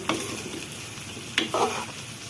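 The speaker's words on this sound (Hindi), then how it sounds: "तमाम मसाले डालने के बाद अब ये सब्जियों के साथ इसे अच्छा सा भून लेंगे।" Spices and vegetables fried together in a pan for a desi winter sabzi, a soft steady sizzle broken by two short clatters of stirring.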